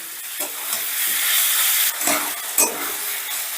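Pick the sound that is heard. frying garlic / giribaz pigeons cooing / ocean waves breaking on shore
frying garlic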